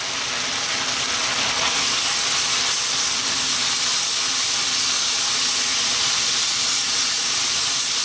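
Chili powder, ketchup, soy and fish sauce sizzle together with garlic in a hot pan, a loud sustained frying hiss with faint scraping and rattling textures over several seconds, no voices.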